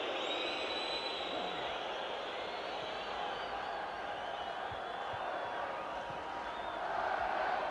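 Broad, sustained roar of a football stadium crowd at Republic of Ireland v West Germany in 1989, a distant wash of chanting and cheering that holds steady throughout.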